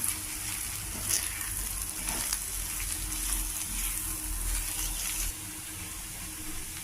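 Shredded cabbage with gram flour fries in a pan while being stirred, giving a steady, close hiss and crackle with light scraping. The sizzle eases near the end.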